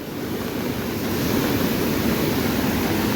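Continuous loud rushing water of a rain-swollen river at Anjap, Karjat, roars steadily during heavy monsoon rain, a broad churning wash in full flow, with no voices.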